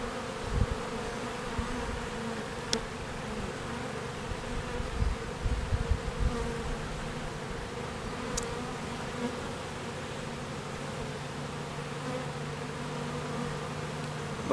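Honeybees swarm densely around a beekeeper with his face down at an open hive, a steady, close, even buzz running throughout with a few brief louder passes near the microphone and no talking.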